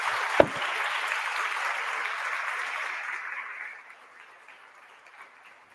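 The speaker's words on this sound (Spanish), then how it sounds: "un aplauso sobre todo para las compañeras y compañeros" Applause from an audience at a speech-therapy week event, a dense burst of clapping that starts sharply, holds steady for about three seconds and then fades out.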